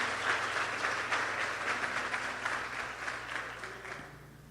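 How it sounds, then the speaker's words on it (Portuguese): Church congregation applauding together in a sustained, dense burst of clapping that fills the room, with a low steady hum beneath and the applause thinning out toward the end. "Dá mais uma salva de palmas a Jesus"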